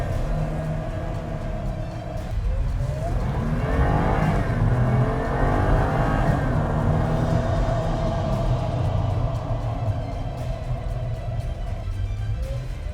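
Supercharged Jeep JT with a Magnuson supercharger revs up hard, its engine note climbing and swelling into a loud, steady roar that holds for several seconds before easing slightly, close by with no talking.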